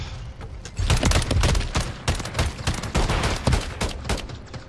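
Light machine gun fire in Modern Warfare 3, rapid sustained bursts of close, loud shots broken by short gaps, with the rattling volleys repeating over several seconds.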